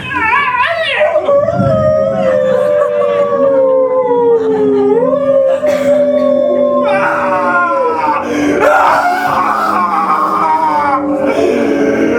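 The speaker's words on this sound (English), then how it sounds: "You can hear the dogs join in because suddenly the wild animals feel this pain." Several dogs howl together in long, wavering, overlapping cries that rise and fall, loud and continuous throughout, with some yips mixed in, as part of an improvised vampire horror scene on a theater stage.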